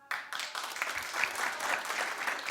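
A studio audience claps in a dense burst that starts abruptly and carries on steadily at moderate loudness, with no voices over it.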